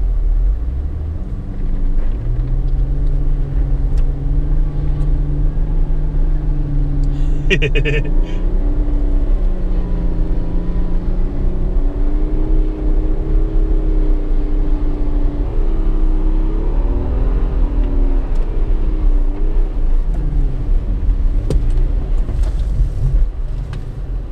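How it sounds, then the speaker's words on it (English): A Supra's engine rumbles and revs steadily while it spins donuts in a snowy, mostly vacant parking lot, its pitch rising and falling as the throttle changes, with people talking over the constant engine noise. "we're gonna let the snow donuts commence"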